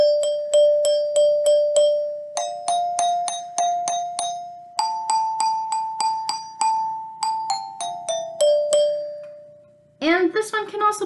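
A glockenspiel plays a simple melody of bright, ringing metal tones struck in quick repeated groups, each note decaying cleanly, followed by a brief voice at the end.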